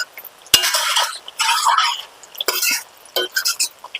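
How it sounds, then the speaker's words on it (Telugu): Curry with fresh coriander stirred in a pan, producing bursts of scraping and clinking from a spoon against the metal, broken by short pauses and a faint sizzle underneath. "ఇప్పుడు మనం కొత్తిమీర వేసేసి కలిపేసి బంద్ చేసుకోవడమే"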